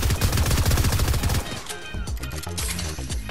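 Rapid-fire SMG bursts from Fortnite rattle loudly in dense repeated shots, packed tight for the first second and a half, then give way to sparser in-game effects and clatter.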